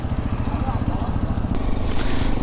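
A Hero Xpulse 210 motorcycle engine running and pulling away on a village road, a close, rough rumbling idle that swells louder in the final second as it is ridden off.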